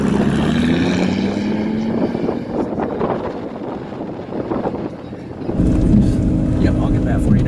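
A Lamborghini on a raceway accelerates with a rising engine drone over heavy wind rush, fading into broadband noise mid-run before a steady engine tone returns; a voice is faintly present.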